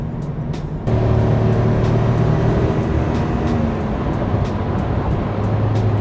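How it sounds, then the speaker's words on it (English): A 4WD explorer van with a V8 engine accelerates hard on a highway, its steady loud drone rising in pitch after a sudden jump in power, with road and wind noise throughout. "That V8 feels great."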